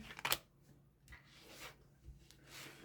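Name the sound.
shuffling tarot cards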